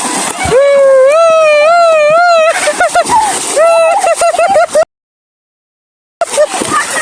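Loud, continuous splashing from a large group bathing in a village pond under hot sun, with excited voices and calls over the water and a brief silent gap before the splashing resumes.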